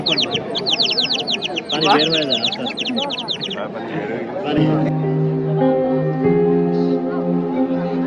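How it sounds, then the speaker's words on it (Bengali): Rapid high-pitched bird chirps twitter in quick bursts while people talk nearby at a bird stall at a Bangladesh book fair, then fade as voices and a steady tonal hum continue. "পাখি নেবে, ন্যাচারাল বার্ড।"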